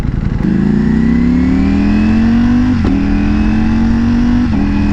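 A Ducati Panigale V4S sport motorcycle engine revs up with a rising whine, climbing in pitch with brief shift-like breaks, loud and close.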